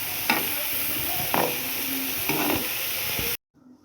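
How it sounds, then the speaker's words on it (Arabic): Sliced potatoes and onions stirred while frying in oil in a pan, a constant close sizzle broken by three or four scraping stirs, then a brief cut to near quiet at the end. "دابا غنضيف لها هذيك البصله اللي شلطت، نخلطها معاها مزيان ونغطيهم"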